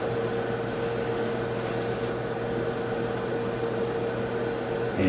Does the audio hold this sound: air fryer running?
yes